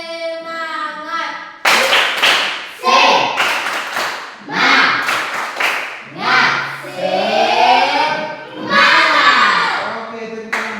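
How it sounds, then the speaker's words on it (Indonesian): Children in a classroom doing a rhythmic spirit clap, loud bursts of clapping and shouting voices in repeated patterns, with chanting children's voices and an adult's voice between the claps. "1, 2, 3, tepuk semangat."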